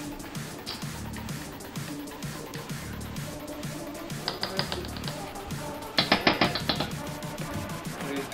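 Taps on a metal object ring out as quick, sharp clicks, with bright clustered strikes near the end, set against a busy room background.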